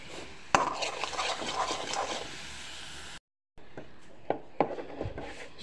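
Sugar is stirred in a pan as it caramelizes for tea: soft scraping and rubbing of a spoon, with a few sharp knocks against the pan. The sound breaks off briefly in the middle.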